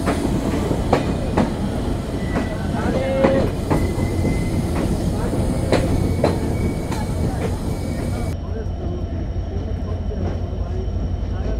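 Simanta Express intercity train runs at speed between Khulna-line stations, a loud steady roar of wheels on track with rhythmic clickety-clack joints and occasional squeals, continuous throughout.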